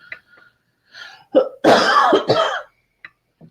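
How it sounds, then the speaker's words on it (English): A burst of harsh coughing and throat clearing, close and fairly loud, in a couple of rough bursts with short quieter noises around them. "I'm just going to cough."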